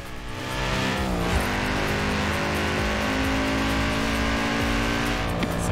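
A car drives steadily in Forza Horizon 4, its engine a loud, continuous drone with one brief shift in pitch early on and a smooth, sustained tone afterward, with no talking over it.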